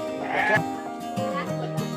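A goat at an animal farm in Lembang bleats in short, nasal cries, several in a row nearby, with a faint murmur of visitors behind.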